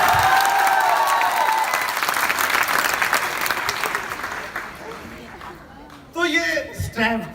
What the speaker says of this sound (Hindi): एक बार जोरदार ताली जाओ लगना चाहिए ना।